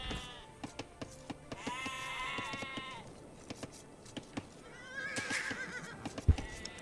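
Sheep bleating in the video game Age of Empires II, with a couple of drawn-out bleats standing out among horse whinnies, hoof clip-clops and scattered clicks, moderately loud with no talk over it.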